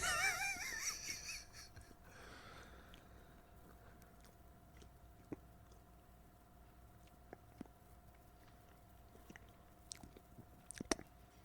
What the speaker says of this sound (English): the mic's picking you up chewing